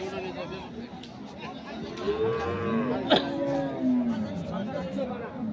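A calf moos a few times nearby amid a busy crowd of people chattering in the background at a rural cattle market in Dinajpur, Bangladesh.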